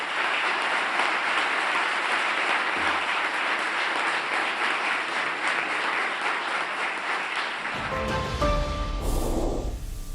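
Applause for Mexican President López Obrador at an official event, a dense, steady wash of clapping that runs for about eight seconds before cutting to other sound.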